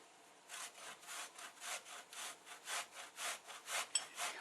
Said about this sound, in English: Grate your plantain into a bowl.